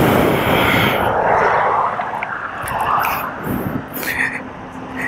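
A 600cc superbike engine screams at high revs, loud and close at first, then fading and surging as it passes, with brief voices in the background.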